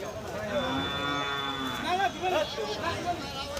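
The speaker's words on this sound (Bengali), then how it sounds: "এই যে দেখতে পাচ্ছেন এইদিকে আবার গাভী গরুগুলি" Cattle at a livestock market in Thakurgaon, Bangladesh, with bulls and cows being bought and sold, low and drawn-out moos rising and falling over busy crowd chatter. Several moos overlap near the middle.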